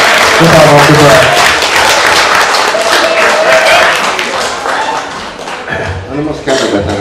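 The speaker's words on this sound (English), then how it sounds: "can I give a big round of applause for Uncle Keithy, aka Mr. Berry, the father of the bride" Wedding guests break into loud, close applause for the father of the bride, mingled with cheering voices, the clapping thinning out and fading as the seconds pass.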